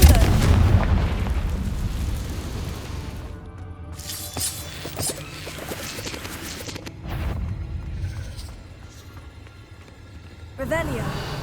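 Confringo spell blasts in Hogwarts Legacy boom and crackle amid dense game noise, with a strong burst near the start and further bursts scattered through, one more near the end, while a voice talks over the action.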